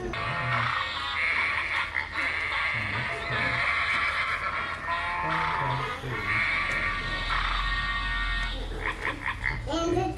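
A children's toy sound book plays a horse neighing and whinnying, loud and close, with clip-clop and other animal noises mixed in throughout.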